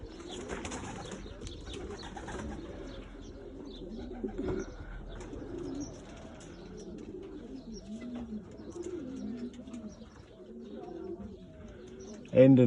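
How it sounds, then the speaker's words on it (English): Racing pigeons coo repeatedly in soft, rolling bursts close by in a garden loft, with occasional wing flaps and a louder flurry at the end, while someone talks quietly at times. "That's not even my bird."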